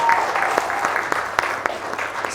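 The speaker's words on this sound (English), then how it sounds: "Round of applause for Joe." Audience round of applause, a short burst of scattered clapping with a few sharper individual claps standing out, moderately loud and fairly close.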